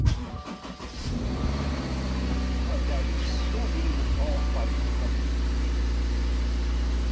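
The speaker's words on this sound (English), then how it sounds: "Now we're going to turn on the car" A 2019 Subaru Forester with a CVT starts up and settles into a steady, close engine hum, with a low drone that holds throughout after a brief rough start.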